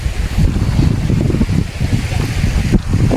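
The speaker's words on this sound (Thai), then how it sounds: "ลมแรงขนาด คืนนี้ออกไปบ่ได้เลยนี่" Strong wind gusts roar at the seashore at Nakai, a loud continuous low rumble buffeting the microphone with waves churning underneath.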